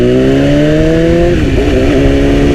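A 2010 BMW S1000RR inline-four howls at high revs while riding, loud and steady, with the pitch dipping briefly as it shifts and then pulling on.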